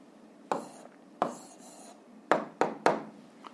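Pen or chalk writing out a physics answer, five distinct scratchy strokes at irregular intervals, close and fairly loud, with quiet gaps between them and no talk.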